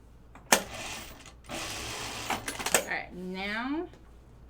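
A home sewing machine runs in steady bursts while hemming the ends of fabric for an ornamental flag, close and even-toned between sharp starts and stops, with a voice speaking near the end.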